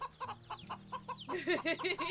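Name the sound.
chickens clucking loudly in the video game Wytchwood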